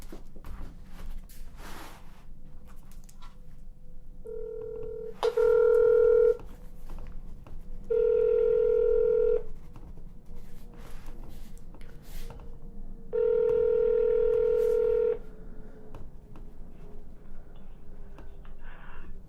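A telephone call to the Franklin County, Ohio Prosecutor office rings out as three long, steady ringback tones, with faint handling noise between them.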